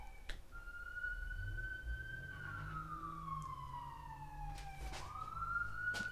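A police siren wails through a residential neighborhood, one steady rising and falling tone that sweeps down and then jumps back up, moderately close over low traffic rumble.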